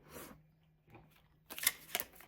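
Quiet, uneven rustling and flicking of tarot cards being shuffled, with a few short bursts of crisp slapping near the end.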